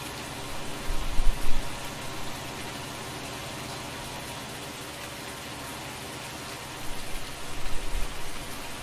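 Steady rain falls in the video game Farming Simulator 19 as an even, dense hiss throughout, with a couple of brief low rumbles rising near the start and near the end.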